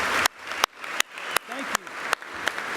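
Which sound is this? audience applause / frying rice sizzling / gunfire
audience applause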